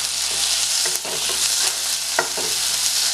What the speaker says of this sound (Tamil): வெங்காயம் நல்லா வதங்கினதுக்கு அப்புறமா கட் பண்ணி வச்சிருக்கிற தக்காளி சேர்த்துக்கோங்க